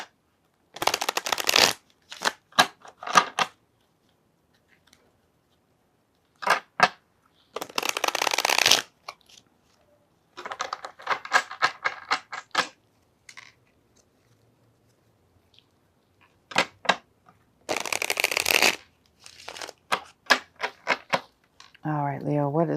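Tarot cards being shuffled in repeated bursts of crisp riffling and flapping, separated by silent gaps, with a short voiced moment at the very end.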